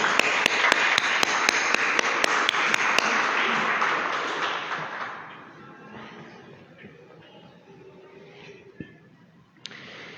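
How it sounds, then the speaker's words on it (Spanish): A church congregation at Sunday Mass bursts into applause for about five seconds, with a few sharp claps standing out, before it fades into the quiet of the room with faint scattered sounds. "Para ellos, otro aplauso le damos."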